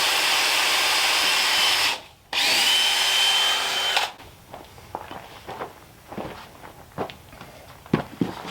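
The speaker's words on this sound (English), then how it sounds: "I'm making a pilot hole here. That's why I'm using such a small drill." A small power drill bores a pilot hole for a sawmill foundation, whining loud and close in two steady bursts with a brief pause, then stops, followed by scattered footsteps and handling clatter.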